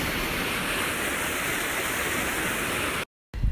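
Water rushes steadily through an irrigation diversion channel feeding farmland, a constant dense hiss and roar that holds level for about three seconds before cutting off abruptly, then briefly returning.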